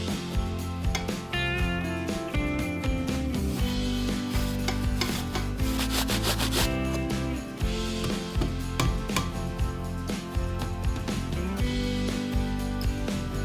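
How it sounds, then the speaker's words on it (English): An apple is grated by hand, producing steady rhythmic rasping and rubbing strokes, close and fairly loud, with no talk. "I grate the apple for a delicious apple note."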